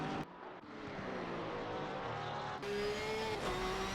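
Race car engine from Alvarado's GT3 car in a sim racing broadcast at Laguna Seca, a steady mid-distance drone with rising and shifting pitch sweeps, continuous throughout with no talk over it.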